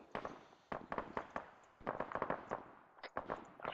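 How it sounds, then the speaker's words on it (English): An AGS automatic grenade launcher fires in Arma from a distant town, a series of rapid, sharp popping bursts in quick clusters with brief pauses between them. "I'm hearing AGS fire from that town."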